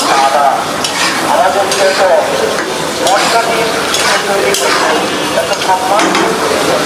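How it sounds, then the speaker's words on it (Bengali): Potatoes sizzling and being stirred in a frying pan, steady loud frying with repeated scrapes and clinks of a spatula against the pan, close up and continuous. "এখন দিয়ে দিব হচ্ছে আলুগুলো, আলুটা আগে দিই। আলু দিয়ে কষানো হলে তারপর হচ্ছে চিকেনটা দিব।"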